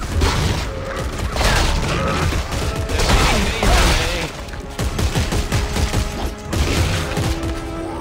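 Sustained rapid weapon fire in the sci-fi horror game Dead Space 3, dense overlapping bursts and booms with mechanical clatter, loud and continuous throughout.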